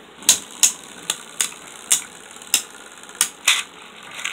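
Beyblade Burst tops, Spiral Treptune against Strike Genesis Valtryek, clashing in a stadium, giving about ten loud, sharp metallic clacks at a quick irregular pace with quiet gaps between hits.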